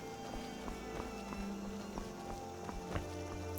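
A horse's hooves clip-clop in a quick, steady rhythm along a road in the modded Skyrim game, with sharp, evenly spaced hoof strikes over a continuous ambient background.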